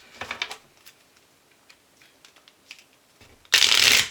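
Tarot cards shuffled in the air, soft scattered flicks and taps of cards, then a sudden loud dense riffling burst at the end, close and without talking.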